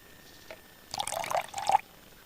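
A burst of small hard wasabi peas tipped from a can into a sink in the adventure game Deponia: a busy rattling pour of about a second, loud and close, with no talking.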